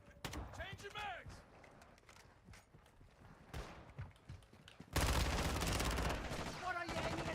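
Gunfire in the multiplayer mode of Modern Warfare 3, the Season 6 Haunting: scattered shots crack under a voice talking, then a loud, dense burst of automatic fire runs without pause through the last couple of seconds.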